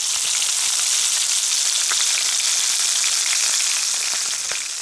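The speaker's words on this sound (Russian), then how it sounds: "Сейчас будем жарить." Burbot frying in a pan over a campfire in the snowy taiga, a steady dense sizzle with scattered crackling pops throughout, close and loud with no talk.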